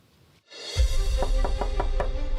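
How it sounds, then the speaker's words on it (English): Five sharp knocks on a door in a quick, even series, loud and close over a steady low room rumble, with no voices. "It started with a knock at the door."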